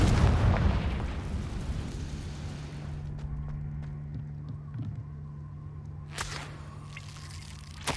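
A Confringo blasting spell goes off in Hogwarts Legacy, a loud close burst and boom that fades into a low rumbling hum, followed by a sharp crack near the end.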